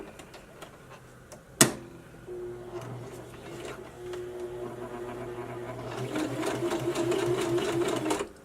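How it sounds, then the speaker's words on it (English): A sewing machine stitches an elastic casing with a fast mechanical whir that builds louder toward the end, after a sharp click and a few quieter rattling runs, with no talk. "I'm not going to sew it just once. I'm going to sew it a couple times."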